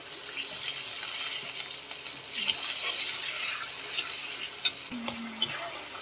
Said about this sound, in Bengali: মশলাটা ভালো করে আমি কষিয়ে নেব।